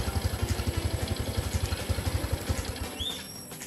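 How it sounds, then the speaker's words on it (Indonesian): A Honda Wave 125 motorcycle engine idles in a quick, even putter of low pulses, fairly faint, before settling down near the end, with a brief high chirp over it. "kung naririnig nyo yung tunog ng makina"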